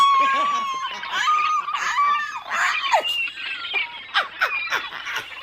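A person imitates seagulls with a run of high, wavering squawks and cries, loud and close, the calls rising and breaking in uneven bursts.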